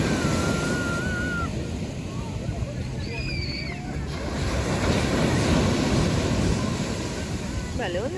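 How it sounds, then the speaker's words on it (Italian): Strong ocean waves surging and washing continuously near the shore in Phuket, loud and broadband with wind buffeting the microphone, a few faint birdlike chirps over the surf. "Beh, le onde sono forti adesso."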